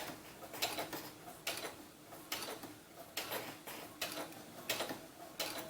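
A sewing machine stitches slowly, back-stitching a pleat on a doll romper, in a steady, even rhythm, each pass a soft mechanical whir-tick repeating about once a second, with no talking.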